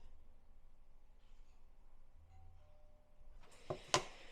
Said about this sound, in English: Whoever rang my doorbell